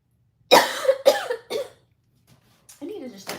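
Several sharp, close coughs in quick succession, followed by a brief pause and another softer cough.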